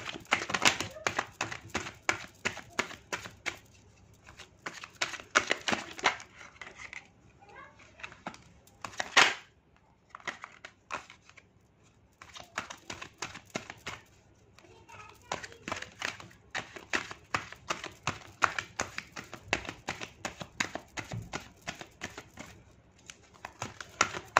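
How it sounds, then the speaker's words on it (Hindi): A deck of tarot cards is shuffled by hand in bursts of rapid, crisp flicking and tapping, with short pauses between bursts and soft talk at times. "जब तक कि मैं आपके लिए कार्ड शफल कर रही हूँ, आप प्रे कर लीजिए।"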